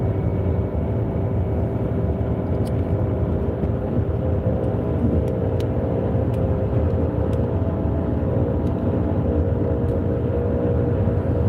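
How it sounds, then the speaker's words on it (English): Road traffic streams past in a continuous, loud, steady rumble of passing cars, with no voices. "there's too many cars"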